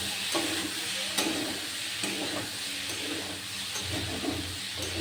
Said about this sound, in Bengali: এইভাবে ভালোভাবে নাড়াচাড়া করে নেব ভালোভাবে ভাজতে হবে